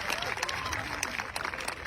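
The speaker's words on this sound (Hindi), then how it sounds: "जोरदार तालियों से इनका स्वागत कीजिए।" Brief burst of crowd clapping at a school comedy show, dense and lively, with voices mixed into the noise.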